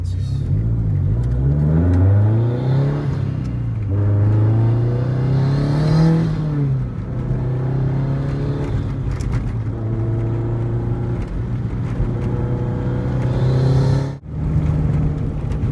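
A modified 2004 Subaru STI with turbo revs hard and accelerates through gears on a bumpy road, engine pitch climbing then dropping at each shift, loud and close from inside the car, with a brief lull near the end.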